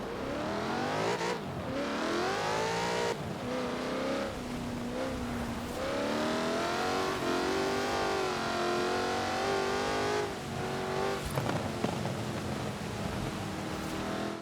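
A Jaguar XKR-S GT in the Forza racing game revs hard, its engine climbing and falling through repeated loud sweeps with brief lifts between pulls, heard alone without talk.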